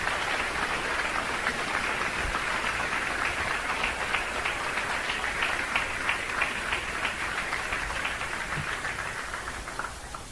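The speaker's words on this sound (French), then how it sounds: "Alors, applaudis, conférencier." An audience at an evangelical debate on Christians and politics claps for a speaker in a steady, sustained wash of applause that carries through the whole stretch and eases slightly at the end.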